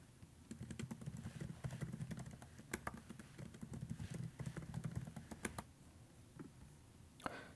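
Computer keyboard typing in quick irregular bursts of clicks while a username and password are entered during a cloud network security setup, close and clear with no talk.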